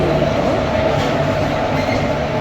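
A night train at a railway station near Tiruchendur or Coimbatore rumbles steadily and loudly with a continuous rolling wheel noise, close by and without talk.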